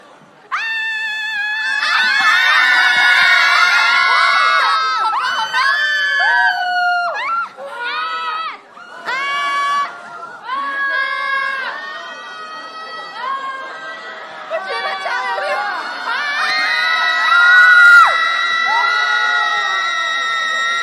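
A large crowd screams and cheers loudly and continuously at a New Year joint concert, with high shrill shouts rising and falling over a sustained roar throughout.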